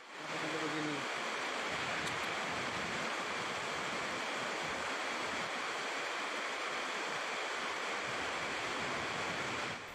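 Flash floodwater rushes through Denpasar, Bali, after heavy rain, a continuous loud roaring wash of water that holds steady from start to finish without any clear voices.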